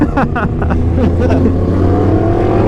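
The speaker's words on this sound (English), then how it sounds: "your bike just sounds angry all the time" A loud Honda CBF1000 motorcycle engine rumbles close by at a steady, throaty idle with brief higher revving tones early on.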